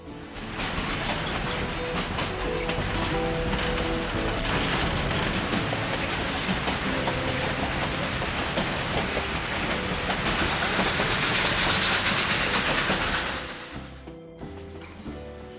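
A Durango and Silverton narrow gauge historic train rumbles steadily along the rails with a continuous clatter and a brighter hissing rush building near the end before it cuts off.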